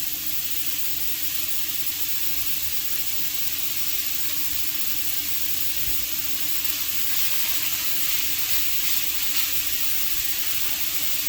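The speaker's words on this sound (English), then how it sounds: "Now I'm just going to let this simmer kind of like in here." Ground meat simmering in a pan, a steady broad hiss and sizzle running unbroken for over ten seconds, close and even, with faint low bumps underneath and no voices.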